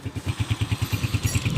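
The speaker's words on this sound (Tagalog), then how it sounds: "Napaka-smooth ng motor ng Angel, oh." A Suzuki RS 150fi motorcycle engine idles smoothly up close, its steady, even low thumping pulses repeating at a quick regular rhythm with no talk over it.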